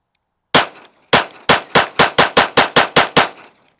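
A Monsoon Tactical optic-cut Bodyguard 2.0 pistol fires eleven loud, close shots, one, a pause, then a quick steady string of ten with short ringing tails.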